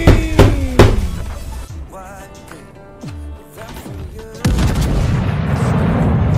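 Loud gunshots ring out in a video game, with a few sharp booming cracks early on and game sounds and a rumble following, close and dominant with no talking.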